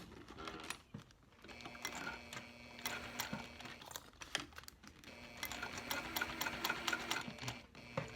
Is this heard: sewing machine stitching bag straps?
yes